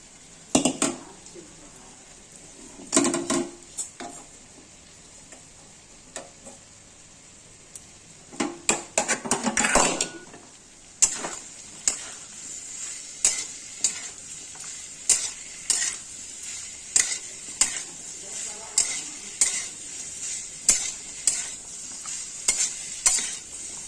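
Papaya pieces are tossed into spices in a pan for a papaya and soybean curry, with a soft steady sizzle under repeated spatula scrapes and knocks that settle into a regular stirring rhythm.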